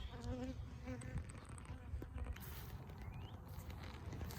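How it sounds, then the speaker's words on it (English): Honeybees buzz around an opened beehive, a continuous close drone of many wings with individual bees passing near, and faint handling knocks underneath. "There's bees going in and out"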